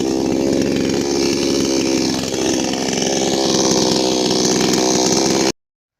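A loud chainsaw runs steadily close by, its engine pitch dipping briefly as it bites into firewood, then revving on until it cuts off abruptly.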